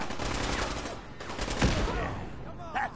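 Rapid bursts of gunfire in a PS4 game crackle close and loud, with one heavier shot in the middle and shouting voices in the background.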